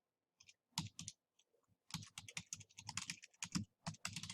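Computer keyboard keys are typed in a short, close burst of quick irregular clicks with brief pauses, entering an email address.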